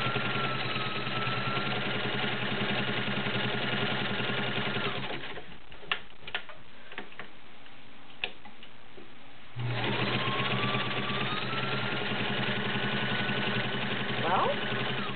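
A vintage Kenmore model 1601 sewing machine stitches through layers of garment leather with a close, steady mechanical whir, breaking off midway for a few seconds of faint clicks before the motor resumes.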